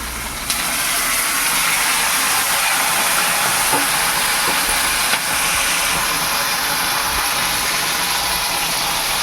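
Steady sizzling hiss of chopped tomatoes frying in a pan for a garlic curry, with a few faint clicks and clatters.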